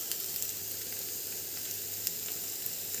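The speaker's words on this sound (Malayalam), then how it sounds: "ഇനി നമുക്ക് കുറച്ച് നേരം മൂടി വെച്ചിട്ടൊന്ന് ജസ്റ്റ് ഒന്ന് ഫ്രൈ ചെയ്തെടുക്കാം" A Kerala-style egg fries in a pan with a steady, close, bright sizzle and occasional small pops, with no voices.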